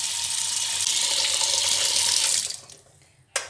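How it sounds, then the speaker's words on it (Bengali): Water gushes steadily from a kitchen tap into a large bowl of freshly washed new potatoes, a continuous close rushing that cuts off abruptly, followed by a short quiet tail and a final splash. "ঢেলে নিয়ে এর মধ্যে জল দিয়ে দেবো"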